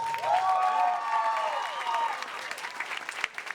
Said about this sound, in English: How about everybody a round of applause?